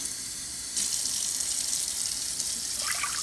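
Hot water runs from a tap into a measuring cup for cooking rice, a steady close splashing stream that starts abruptly and continues, with the pitch shifting slightly near the end as the cup fills.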